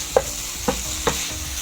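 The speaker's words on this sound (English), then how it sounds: "we're going to stir this so that our veggies can absorb the spices." Vegetables and spices with chili powder get stirred in a pan for noodles: three distinct spoon scrapes spaced about half a second apart over a soft continuous sizzle, close and without talk.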